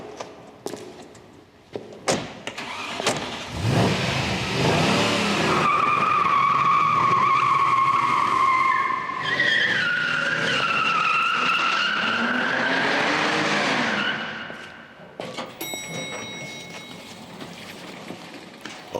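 A car pulls away with a long, loud screech of skidding tires that swells and wavers for about ten seconds, then fades into quieter background sounds.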